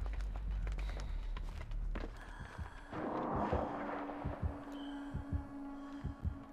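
A Dead by Daylight heartbeat thumps in a steady, pounding rhythm that builds to a quick pulse, heavy and close over a droning ambient hum and scattered footstep-like noises.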